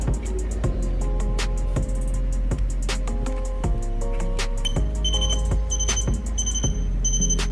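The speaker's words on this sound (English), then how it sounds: "The alarm is loud and clear" An alarm clock rings with repeated bright electronic beeps over a steady low hum, loud and continuous throughout.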